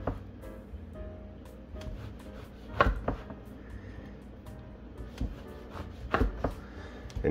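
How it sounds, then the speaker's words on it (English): A knife slices through a loaf of bread to cut four slices for French toast, giving a few distinct cutting strokes and board knocks over a low kitchen hum, with no talking. "So now I'm going to cut up my bread"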